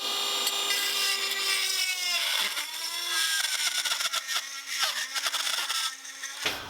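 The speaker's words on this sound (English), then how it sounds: "I'm gonna just use a Dremel bit" Dremel rotary tool cutting out a part from a Laguna F2 table saw's dust collection fitting, a high whining grind with shifting pitch as the bit bites in, steady and close, no talking.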